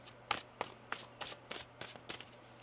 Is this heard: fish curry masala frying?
no